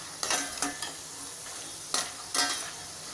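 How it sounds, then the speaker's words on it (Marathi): Peanuts frying in a pan over a medium gas flame: a soft background sizzle broken by four or five sharp rattling stirs that scrape and clatter the nuts, close by, with no talking. "आपले शेंगदाणे छान लाल होत आलेत, हे मस्त खरपूस तळून घ्यायचे मध्यम गॅसवर"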